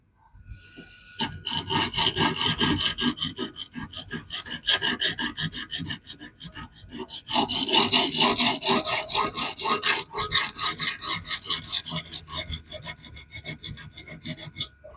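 A knife is sharpened on a 180 grit Xarilk diamond plate, making rapid rhythmic rasping strokes close up in two long runs separated by a brief pause, with no talking.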